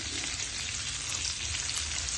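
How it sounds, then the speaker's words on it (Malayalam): Lobster pieces fry in spiced masala in a pan after being flipped over, giving a steady, dense sizzle that stays loud and unbroken throughout with no voices. "ഇനി നമുക്ക് തിരിച്ചിട്ട് ഫ്രൈ ചെയ്തെടുക്കട്ടെ ഗൈസ്"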